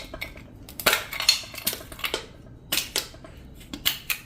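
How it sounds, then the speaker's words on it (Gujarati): Ice cubes drop into a bowl of freshly churned butter made from cream, giving several sharp clinks and clatters spaced irregularly, close and fairly quiet, with no talking. "તો હવે આપણે છે ને આમાં આઈસ ક્યુબ નાખી દેવું."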